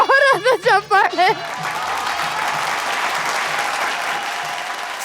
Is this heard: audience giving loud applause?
yes